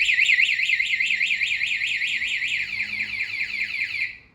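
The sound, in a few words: motorcycle anti-theft alarm sounding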